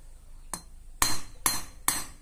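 Four sharp metallic hammer taps seating an engine valve on a Yamaha Jupiter Z motorcycle, spaced about half a second apart, close and clear, growing slightly firmer after the first.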